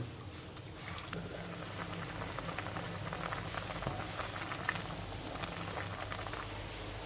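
Soft bubbling and crackling of a raw mango sour curry simmering under a lid, steady with faint lid rattles and small pops, no voices.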